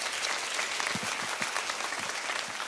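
An audience claps together in sustained applause at a Christian talk, a dense steady patter of hands heard from within the room.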